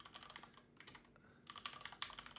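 Rapid, quiet clicking of computer keys in uneven bursts, with short pauses between flurries of typing and no voices.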